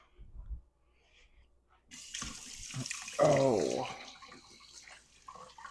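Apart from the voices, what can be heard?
running tap water, washing hands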